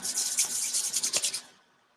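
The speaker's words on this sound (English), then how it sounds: "pop a drop in my hand, rub them together" Hands rub together with a drop of peppermint essential oil, giving a close, steady swishing friction with quick back-and-forth strokes that stop after about a second and a half.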